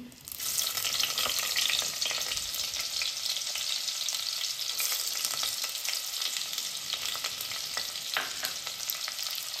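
Finely chopped onion fries in oil with asafoetida and cumin for a Maharashtrian val amti tempering, a dense, close, steady sizzle with stirring scrapes throughout and no voices.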